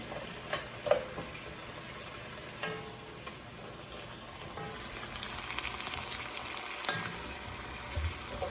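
Browned bits are scraped from the bottom of a roasting pan after a pork tenderloin roast, with a soft, steady sizzle and faint scraping and stirring sounds close by.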